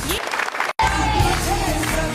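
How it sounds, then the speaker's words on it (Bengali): Steady clapping from a crowd at an Independence Day school performance, broken by a brief silent gap, then dense applause continuing at an even level with a faint tone running through it. "ওদের সবার জন্য জোরে হাততালি দিবেন"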